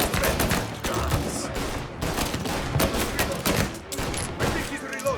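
A chaotic gunfight in Mafia: Definitive Edition, with dense bursts of gunfire and overlapping shots, loud and close, and voices calling out now and then.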